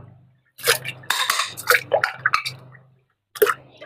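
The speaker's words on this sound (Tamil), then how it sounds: "இந்த ஒரு பார்ட்ஸ் மட்டும் எடுத்துட்டு நீங்கள் தண்ணியில் இந்த மாதிரி வாஷ் பண்ணினா போதும் உங்களுக்கு" A plastic part of a mini manual juicer is rinsed and shaken in water, giving splashes, drips and clattering knocks in uneven bursts with short pauses. The sounds are close and fairly loud, with no talk over them.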